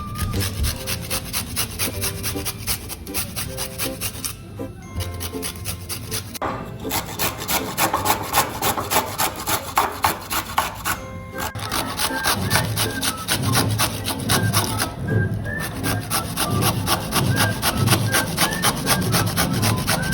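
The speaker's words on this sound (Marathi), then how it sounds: "तसेच आपण गाजर व काकडी किसून घेऊयात" Carrot and cucumber are rubbed against a hand grater for salad in a home kitchen, a steady fast rhythmic scraping that runs without a break, with a few brief pauses, close and loud.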